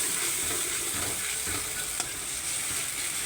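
A runny ground spice paste sizzling hard in a hot pan, dense continuous crackling frying noise close up with one brief sharp click, no speech.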